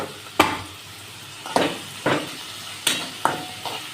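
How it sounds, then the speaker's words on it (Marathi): Frying in a pan with salt while cooking egg bhurji, a soft steady sizzle broken by several sharp scraping stirs of a spoon against the pan, close and alone. "चांगले तळून घेऊ ते."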